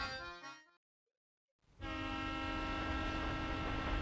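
A train from the Professor Layton and the Diabolical Box video game, the Molentary Express, starts with a short sound, drops to about a second of silence, then settles into a loud, steady whistling rumble that holds to the end.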